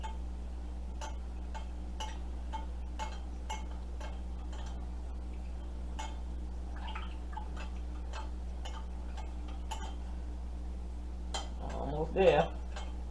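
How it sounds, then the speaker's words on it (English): A spoon or whisk stirs a honey mixture in a bowl, making light, evenly spaced clinks against a steady background hum, with a brief voice near the end. "just stir this up until the honey dissolves"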